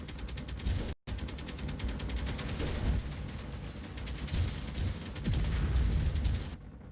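Sustained rapid gunfire from an enemy bunker in Space Engineers, a dense rattling barrage that barely pauses, broken by one brief cut near the start, then continuing loud and unbroken until it stops near the end.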